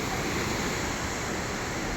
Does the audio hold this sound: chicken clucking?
no